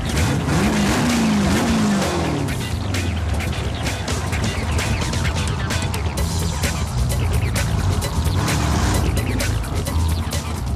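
A loud propane-fueled small-block Chevy engine of about 600 to 700 horsepower roars and revs continuously with a brief tire squeal near the start, heard amid crowd and outdoor noise.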